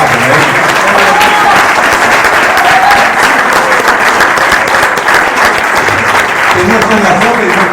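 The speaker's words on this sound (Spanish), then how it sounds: "una aplauso para él" An audience at a talk gives a loud, sustained round of applause for a woman named Marta, a thick continuous clatter of many clapping hands with faint crowd voices mixed in.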